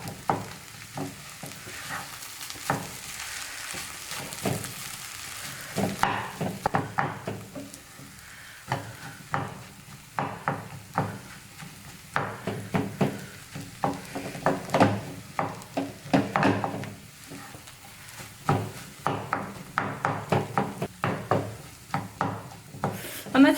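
A spatula scrapes and stirs thick tapioca egg masala in a pan, giving a steady run of close rubbing, scraping knocks with light sizzling underneath, louder and more rhythmic in the second half.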